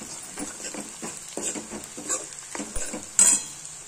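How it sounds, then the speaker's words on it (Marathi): Coriander powder and garam masala are sautéed in a pan, with a quick series of light stirring scrapes and a soft sizzle, ending in a sharper clink of metal; nearby and moderately quiet. "धने पावडर, गरम मसाला, परतून घेऊया सांगतो"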